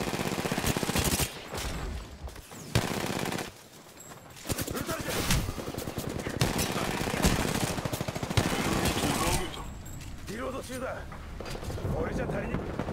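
Rapid automatic gunfire from the battle royale shooter Apex Legends crackles in repeated bursts with brief pauses, loud and close, mixed with game effects and voice lines.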